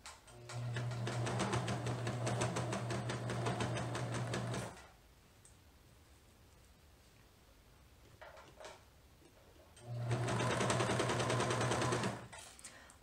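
Serger sewing machine stitching a garment seam in two loud, rapid mechanical bursts of several seconds each, separated by a quiet pause with faint handling clicks.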